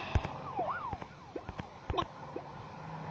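Police car siren in the video game Crossy Road gives a few short rising and falling electronic wails, mixed with sharp game clicks and blips at moderate volume.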